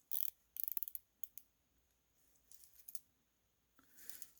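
A Tisell 9015-EX Explorer diver watch's loose bezel is turned by one finger, giving bursts of quick, quiet ratcheting clicks close up, separated by short pauses.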